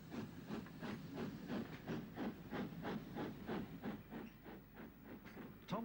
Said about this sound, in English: Far better proportioned is the Peppercorn A1 with forward-mounted cylinders